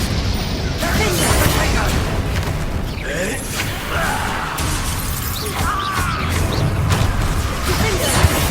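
Magic spell blasts and explosions in the game Hogwarts Legacy, dense and continuous rumbling bursts layered over one another, with voices cutting in during the fight.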